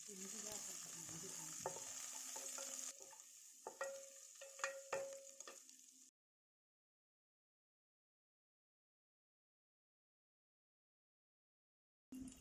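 Shallots with chopped ginger and garlic sizzle and are stirred in hot oil for about six seconds, with clinks of a utensil, then silence before a brief burst of sizzle at the very end.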